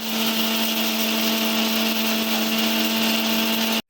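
A kitchen mixer grinder running steadily at full speed as toor dal is ground into fine powder for rasam powder, a loud continuous whine with a strong steady hum that cuts off abruptly at the end.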